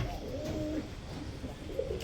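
Danish pigeons cooing in a loft, a couple of soft, low throaty coos rising over a steady background hum.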